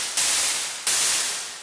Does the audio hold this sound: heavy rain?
no